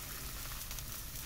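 Methi makki paratha, a maize-flour and fenugreek flatbread brushed with oil, sizzling on a hot tawa, with a steady, dense crackle throughout at close range and no voices.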